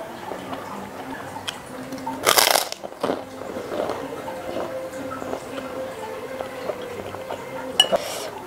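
A bite of fried batagor with rice gives one loud crunch, followed by softer chewing and faint clinks of cutlery on a plate, close and otherwise quiet.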